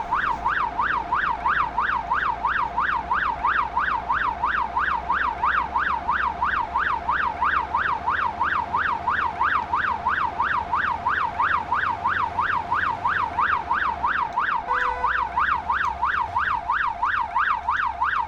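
An ambulance siren wailing in fast, regular up-and-down cycles on late-night roads through traffic, loud and close, steady throughout over a low engine rumble.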